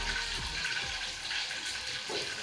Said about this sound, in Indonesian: Direndam kaki